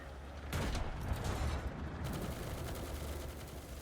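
Tank machine guns rattling off in a video game, a dense burst of rapid gunfire starting half a second in and continuing loud and steady to the end.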